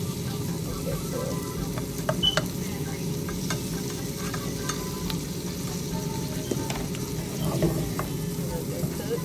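Chicken sizzles in a pan with a low, steady frying crackle, with occasional light clicks and scrapes of a utensil on top; no speech.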